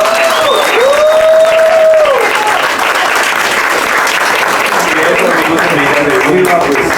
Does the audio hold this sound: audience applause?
yes